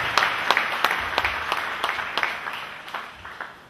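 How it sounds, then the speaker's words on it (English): Audience at a church service clapping in a quick, steady rhythm, with sharp, evenly spaced claps throughout and a faint murmur beneath. "Clap for Jesus Christ."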